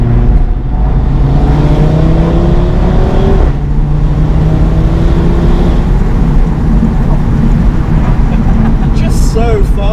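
Audi TT RS turbocharged engine pulling hard under acceleration, a loud steady rising drone with gear changes, heard from inside the car beneath ongoing conversation.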